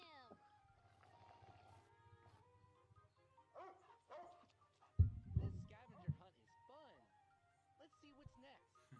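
A puppy makes a few high, thin whimpers and yips, mixed with a person speaking nearby and some brief handling noise partway through.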